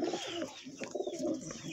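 Pigeons cooing inside a coop, soft throaty rolling coos repeating close by over a faint background hiss.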